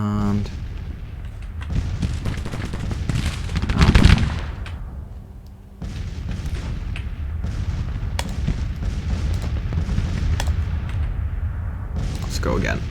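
Artillery and gunfire crackle through a battle in the Grand Tactician strategy game, a dense stream of distant booms and rattling shots that peaks in a heavy blast, with talk running over it.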